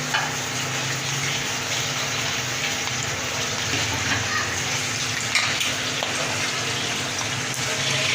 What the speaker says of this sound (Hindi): अब इसको हम डालेंगे ऑयल में। ऑयल हमारा गर्म हो चुका है, इसमें हम डालेंगे।